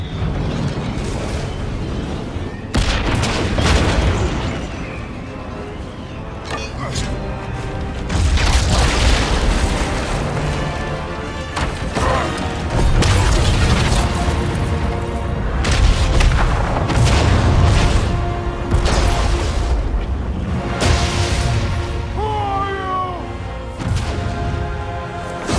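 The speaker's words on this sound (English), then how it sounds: "What was that? The bomb!" Deep, rumbling booms repeat through a God of War Ragnarok game scene as a bomb goes off, with loud bursts and heavy crashes layered over a continuous roar of debris. Faint game dialogue surfaces at times.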